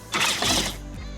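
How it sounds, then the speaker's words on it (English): Mechanical ratcheting and clicking as screws are backed out of plastic trim on a car headliner, a short close burst of tool noise that tails off into quieter rattling. "So now I'm just gonna take those screws out."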